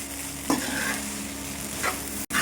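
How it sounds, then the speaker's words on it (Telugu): Chicken fried rice mixed with sauces is stirred in a pan: a steady close sizzle with two brief scraping strokes of the spatula and a short dropout at the end. "ఈ సాస్లు అయితే వేసుకున్నాం కదా, ఇదంతా ఈ రైస్ మొత్తం పట్టే విధంగా అయితే మిక్స్ చేసుకోవాలి."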